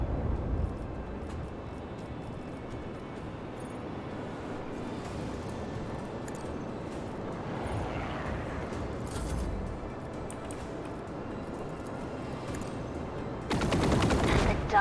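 Torpedoes and gunfire in a space battle in the video game Rogue Trader: a steady, dense rumble of distant explosions and shots that rolls on continuously and surges louder at the very end.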